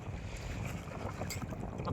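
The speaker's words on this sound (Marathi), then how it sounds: "आज हवा खूप सुटलेली आहे" Strong wind blows over open water during boat fishing, a faint, continuous broadband rush with gusty buffeting on the microphone and no clear voices.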